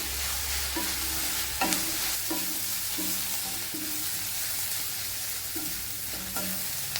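Crushed garlic and onions fry in hot oil for a dried anchovy thokku, with a steady close sizzle broken by several scraping stir strokes of a spoon against the pan.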